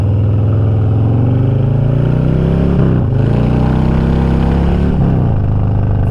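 Motorcycle engine revving hard on the throttle, loud and close, climbing in pitch with two brief dips at gear changes before pulling again.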